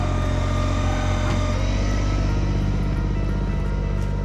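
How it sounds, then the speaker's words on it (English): A 2-ton hydraulic dump trailer's ram working, likely with a flow-reducing valve inside, a loud, steady droning engine-like hum with a whining hydraulic tone, constant and close throughout, with no talking. "That there's a flow reducing valve on the inside of that hydraulic ram, and that's the noise that you hear when I'm operating this trailer"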